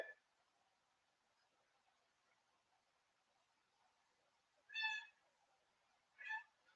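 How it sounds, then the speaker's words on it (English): A cat meows twice in the background, each call short and fairly faint, separated by a quiet stretch of low room noise. "I can't have cats meowing in the background."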